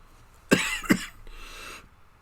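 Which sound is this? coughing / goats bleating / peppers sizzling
coughing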